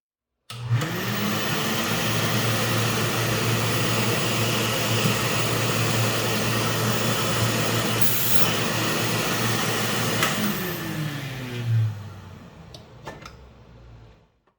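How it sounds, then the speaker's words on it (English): A vacuum cleaner fitted with a 3D-printed bag holder runs at a loud, steady drone for about eleven seconds, then winds down with a falling pitch as the motor spins to a stop. "The next test I want to do is actually to run the vacuum and make sure the bag holds in place"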